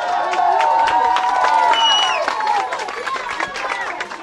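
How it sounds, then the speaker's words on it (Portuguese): Residents of Santa Antonieta in Marília cheer and clap for a young man rescued from a cliff and the firefighters who brought him out. A close, loud crowd shouts with scattered claps, and excited voices carry throughout. "Ele e os bombeiros foram recebidos com aplausos pela população."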